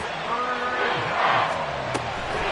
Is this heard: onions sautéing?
no